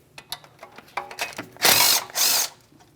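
Ratchet working a 10mm bolt on a Chevrolet Malibu during front CV axle replacement: close clicking ratchet strokes in a quick ragged series, then two longer whirring bursts of loud mechanical noise near the end.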